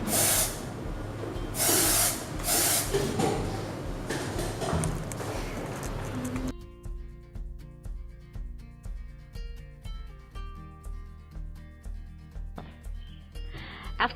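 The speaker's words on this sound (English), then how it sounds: "we have to spray the developer liquid into the material" Several short hissing bursts of developer sprayed from an aerosol can during liquid penetrant testing sound up close, followed by quieter, faintly clicking rhythmic noises once the spraying stops.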